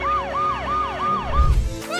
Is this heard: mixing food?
no